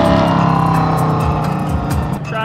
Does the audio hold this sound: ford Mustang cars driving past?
yes